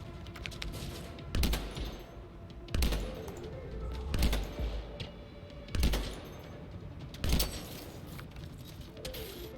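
Gunfire from a weapon in the video game Anthem, loud bursts repeating about every one and a half seconds over a constant game background, with crackling reports and busy rumbling between shots.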